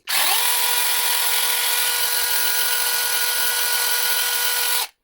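A battery mini chainsaw, one of a Makita, Procraft or Leader, cuts through wood with a loud, steady high-pitched whine that holds unbroken for about five seconds before cutting off.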